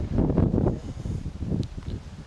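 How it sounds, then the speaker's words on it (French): Outdoor wind buffets a handheld microphone at an old fortress site, a steady low rumbling roar with gusty swells and no voices. "il y a un petit peu de vent, c'est parce qu'en fait il y a du vent"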